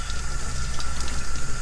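Steady running water, as from a tap over a sink while a clarinet mouthpiece is washed with soap and water: a continuous, full gush at close range and even loudness, with no talk.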